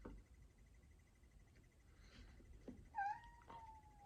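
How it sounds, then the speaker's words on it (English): A cat whines indoors with a couple of short rising, wavering meows near the end, faint over a quiet room background with a soft rustle before them. "Cat's whining."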